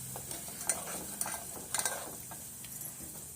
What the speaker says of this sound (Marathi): हे गरम केलेला मसाला आहे तो घालून व्यवस्थित असा शिजवून घ्यायचा आहे